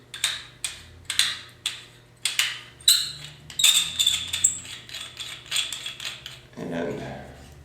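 An Ego 11 paintball marker and its 14-inch stock barrel are fitted together with a run of sharp mechanical clicks, snaps and ratcheting taps at an irregular pace, close by and fairly loud.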